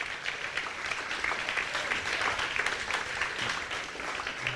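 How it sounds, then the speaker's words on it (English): Audience at a national youth bouldering championship in South Australia breaks into steady, dense applause that stays loud and even from start to finish, with no voices over it. "Big round of applause."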